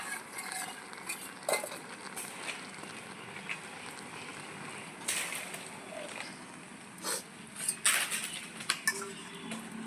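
Metal pot lid and cookware clatter as a pot of half-boiled ash gourd is uncovered and lifted off the heat, with several sharp clanks and scrapes over a soft bubbling background.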